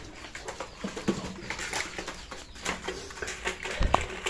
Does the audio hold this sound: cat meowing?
no